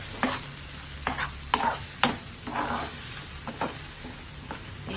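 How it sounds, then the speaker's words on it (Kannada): A spoon scrapes and knocks through thick tomato chutney in a pan, a steady irregular run of close clinks and scrapes over a faint sizzle, with no voices. "ಅದಕ್ಕೆ ಒಂದೆರಡು ನಿಮಿಷ ನೀಟಾಗಿ ಮಿಕ್ಸ್ ಮಾಡ್ಕೊಳ್ಳಿ"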